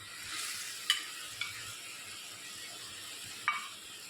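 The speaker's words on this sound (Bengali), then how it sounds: "এখন আমরা এখানে এই ভাজা ট্যাংরা মাছগুলো দিচ্ছি" Fried tengra fish go into a boiling curry cooked with raw mango, followed by quiet stirring: a soft, steady simmer with a few brief scraping clinks from the spoon.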